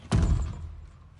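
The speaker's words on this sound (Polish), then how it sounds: "Drzwi trzeba zamknąć." A single heavy thud of a door being shut in The Last of Us Part II, close and loud, with a low rumbling tail that fades over a second.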